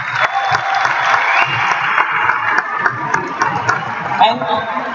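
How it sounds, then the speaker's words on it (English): Applause and crowd noise fill an arena beneath a speaking voice, with scattered claps and a steady murmur throughout. "can you give a huge round of applause to Mr. Greg Provenzano?"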